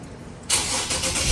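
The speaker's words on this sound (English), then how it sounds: "now I'm going to start the car" An Infiniti G37 fires up after a radiator refill, with a sudden loud crank-and-catch burst following a quiet lull, then settling into a close, rough idle.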